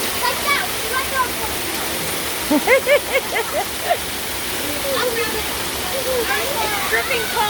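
A gully waterfall rushes steadily up close, a constant hiss of falling and splashing water. Children and adults talk and shout over it.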